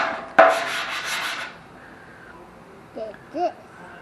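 A sanding block fitted with 220 grit sandpaper scrapes across a surface in one loud, close rubbing stroke that lasts about a second, then fades into quiet with a few faint voice sounds.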